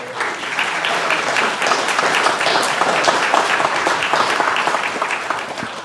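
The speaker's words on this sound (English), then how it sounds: "I hope you're giving yourselves that applause" Sustained applause from a town hall audience, dense and steady clapping filling the room for about six seconds at fairly loud level with no pause.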